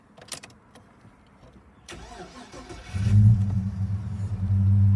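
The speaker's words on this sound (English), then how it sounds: "I'll start it up now so you can hear it." A 2001 Holden VX Commodore SS cranks briefly and starts, settling into a low, steady idle rumble close by, after a few faint clicks and shuffles.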